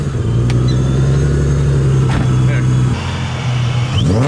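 Supercharged Infiniti G35 with a stage 3 clutch and lightweight flywheel, its engine holding a loud, steady close-up drone before a brief rising rev at the end, with voices talking over it.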